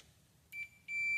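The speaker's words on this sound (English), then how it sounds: "this has got an alarm, so if the leads touch each other, you can hear it" A multimeter set to ohms gives two steady continuity beeps as the test leads touch, first a short one and then a sustained tone, clear and close against a quiet bench.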